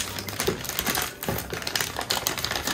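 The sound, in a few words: opening a box of sea animal figures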